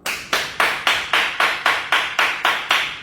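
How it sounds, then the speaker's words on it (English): A group claps together at a steady pace, about eleven sharp, loud, closely spaced bursts, in a show studio after a host calls for it. "let's clap it up, y'all."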